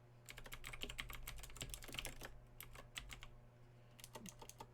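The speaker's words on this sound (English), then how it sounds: "Just typing some letters here into in a random order until I get something that sounds like a name" Random letters typed on a computer keyboard, a close, quiet run of rapid irregular key clicks that slows, pauses, then resumes in a short burst.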